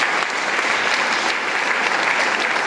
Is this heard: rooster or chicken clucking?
no